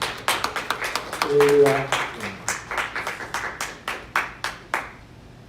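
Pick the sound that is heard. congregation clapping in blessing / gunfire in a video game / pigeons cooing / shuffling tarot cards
congregation clapping in blessing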